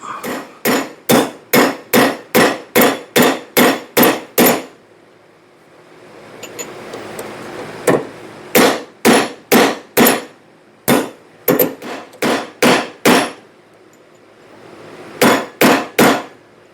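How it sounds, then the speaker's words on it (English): Loud, rapid hammer strikes flattening metal on an anvil in fast runs of blows, broken by short pauses filled with a noisy background hiss. "use the hammer or the anvil on that and try to hammer this flat a little bit"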